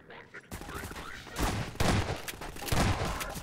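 Gunfire in the video game Half-Life 2, several loud bursts of shots spaced about a second apart after a quiet start, with some voices underneath.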